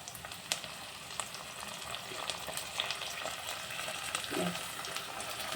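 Ginger, onion and tomato fry in a pan over low heat, a soft, steady sizzle with scattered small crackles and clicks, fairly quiet, with no talking.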